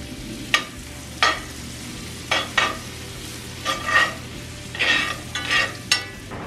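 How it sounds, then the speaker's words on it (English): Minced garlic sizzles in butter and onions in a cast iron skillet as a utensil stirs, with a steady frying hiss broken by about ten short scraping strokes, close and moderately loud. "I actually like to get the juice from the bottom and cook with that too. So we're going to stir that around."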